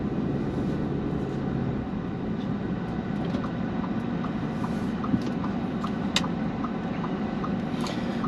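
A 2021 Audi Q3's 2.0-litre turbocharged four-cylinder accelerates, heard from inside as a steady low engine drone mixed with road and wind noise, with faint ticks and clicks scattered over the top.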